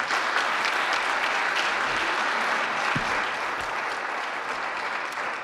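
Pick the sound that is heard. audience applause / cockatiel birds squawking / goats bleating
audience applause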